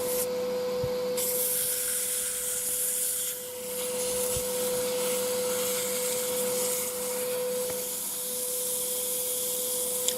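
Wood is sanded with coarse 80 grit sandpaper, a continuous abrasive rubbing that runs steadily with slight dips, alongside a steady machine hum and no speech.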